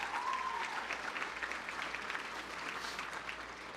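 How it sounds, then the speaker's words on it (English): Steady, moderately distant applause from a crowd at an economic and automotive industry outlook event, thanking sponsors and welcoming students, with an even wash of clapping and a faint murmur of voices beneath. "All right, join me in a round of applause to thank the sponsors and welcome the students."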